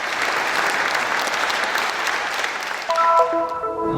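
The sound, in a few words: audience applause at a concert in Rhodes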